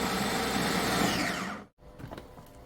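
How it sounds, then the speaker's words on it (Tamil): A food chopper blends ingredients with vinegar, giving a loud, steady whirring hum for under two seconds before cutting off abruptly, leaving quieter handling clatter afterward. "அதனால் நான் சாப்பரில் போட்டு பிளைண்ட் பண்ணிகிட்டு இருக்கேன்"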